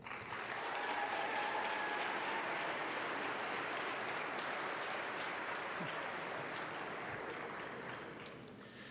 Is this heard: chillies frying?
no